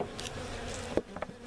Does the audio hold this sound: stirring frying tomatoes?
no